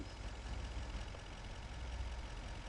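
A truck engine idles in the Farming Simulator 25 video game, heard from the cab as a steady, faint broadband rumble with no change in pace throughout.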